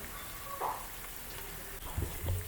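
Onion and curry leaves fry in a pan for a fish fry, a soft, steady sizzle with a few faint clinks and stirring knocks near the end.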